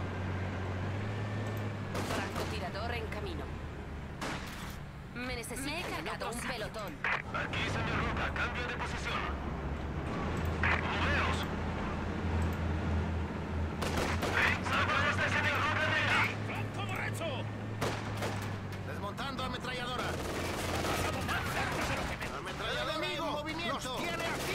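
Battle in the World War II strategy game Company of Heroes 2, with repeated booming artillery and bursts of gunfire rolling through a dense mix, under frequent voiced unit callouts and music.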